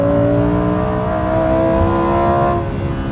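A Lamborghini Huracan Performante's mid-rear-mounted naturally aspirated V10 pulls hard and loud, its steady rising engine tone continuous before easing slightly near the end.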